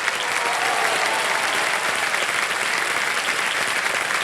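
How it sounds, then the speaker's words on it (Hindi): Studio audience at a TV quiz show applauding, a dense, steady wash of clapping at close range with no break, no talk over it. "तालियां बजती रहे इनके लिए।"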